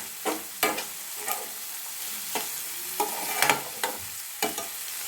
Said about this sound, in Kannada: ಇದೆಲ್ಲ ಚೆನ್ನಾಗಿ ಫ್ರೈ ಚೆನ್ನಾಗಿ ಇದು ಆಯಿಲಲ್ಲಿ ಫ್ರೈ ಆಗಬೇಕು